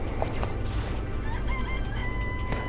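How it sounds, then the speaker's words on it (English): Chicken in the Danganronpa: Trigger Happy Havoc video game, short clucking and crowing calls over a loud, rumbling game background. "It's a chicken."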